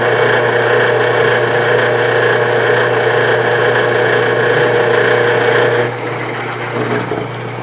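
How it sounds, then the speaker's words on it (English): A drill press motor hums steadily with a constant low tone and a scratchy, rattling edge, dropping slightly in level near the end. "I guess the motor's making noise."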